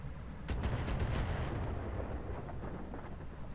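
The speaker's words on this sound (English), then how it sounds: "Shooting at the sniper turret." Heavy mech weapons fire in the Roguetech video game pounds at a sniper turret, a dense rumbling barrage of repeated booming shots over a continuous low roar, with no talking.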